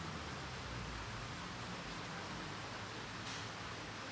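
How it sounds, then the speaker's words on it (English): Heavy rain pours down over an outdoor lawn bowls green during a women's pairs final, a dense, even hiss of steady downpour filling the whole stretch with no voices. "I think rain will be stopping play soon."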